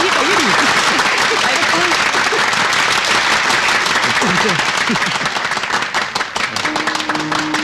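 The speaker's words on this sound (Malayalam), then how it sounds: "കയ്യടി കയ്യടി കയ്യടി കയ്യടി കയ്യടി" A crowd claps and applauds loudly and continuously at close range, with excited voices and shouts mixed in, then the clapping thins and fades toward the end.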